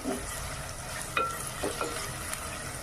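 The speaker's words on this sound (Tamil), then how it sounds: "வெங்காயம் நல்லா வதங்கட்டும் கருவேப்பிலையும் இதில் போட்டுக்கலாம் தக்காளியும் போட்டுக்கலாம் இது நல்லா வதங்கணும்" Onions, curry leaves and tomato sauté in a clay pot, giving a steady soft sizzle with occasional stirring scrapes throughout, no voices.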